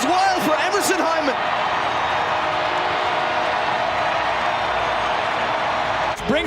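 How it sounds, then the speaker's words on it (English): A stadium crowd at a soccer match roars after a near-post goal, a loud sustained cheer of the full crowd that holds steady throughout, with a commentator's voice calling over it. "Sneaks it in at the near post, and the crowd goes wild for Emerson Hyman."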